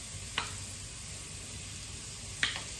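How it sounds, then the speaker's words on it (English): Garlic sautéing in a pan for homemade red sauce, a steady low sizzle throughout with two brief sharp clicks of stirring, no voices. "mix that around, saute it up"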